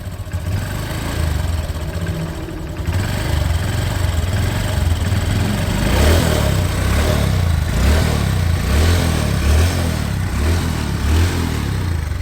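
A motorcycle engine runs steadily at a low idle, close and loud, with a throaty pulsing rumble and slight rises in revs.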